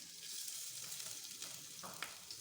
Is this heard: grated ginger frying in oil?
yes